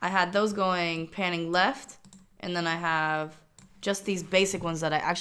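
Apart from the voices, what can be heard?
No everyday noise stands out behind the speech.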